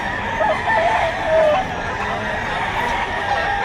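Roosters being sold at a Saturday fowl market behind a shopping mall in Lipa, Batangas, crow and cluck repeatedly amid steady crowd babble, with several birds calling at once over the continuous market noise.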